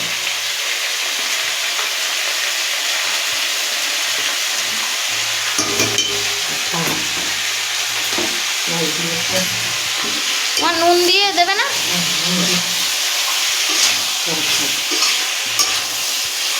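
Spices with turmeric and chili sizzling and frying in a pan, stirred with a utensil that scrapes and clatters intermittently over a steady loud hiss.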